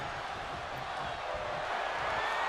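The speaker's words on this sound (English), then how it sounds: "Crowd here tonight with Fight Forever chants" A video-game wrestling arena crowd in WWE 2K22 keeps up a dense, steady roar of chanting and cheering throughout, moderately loud and unbroken.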